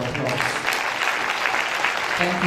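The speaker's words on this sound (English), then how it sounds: "Can we give him a big round of applause?" Brief applause at a University of Abuja ceremony for Dr. Enejo Abdu, representing the Medical and Dental Council of Nigeria, a short burst of crowd clapping mixed with voices and murmuring.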